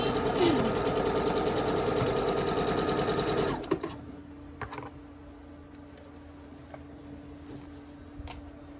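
Sewing machine stitches quilt sashing for a spring flags quilt: a loud, steady mechanical whir for about three and a half seconds, then it stops, leaving faint ticks and low hum.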